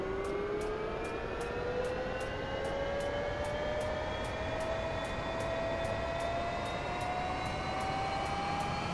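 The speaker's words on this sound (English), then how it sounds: "Start up the engine." Jet engine spooling up during start-up in the DCS flight simulator game, a steady rising turbine whine with climbing tones over a constant roar, loud and close throughout with no talk.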